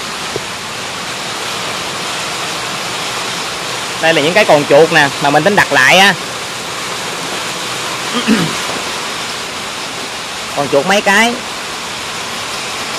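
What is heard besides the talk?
heavy rain falling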